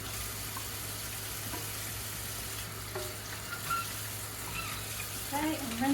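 Tap water running steadily while a canning jar lid is rinsed at a kitchen sink, a constant close hiss of flowing water, with someone briefly talking near the end.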